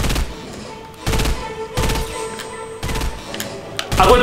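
Fortnite gunfire crackling in bursts, several rapid volleys of automatic shots in quick succession, loud and up front with game noise between them and no voice over the shooting.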